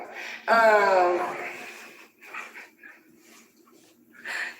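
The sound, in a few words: dog whimpering and barking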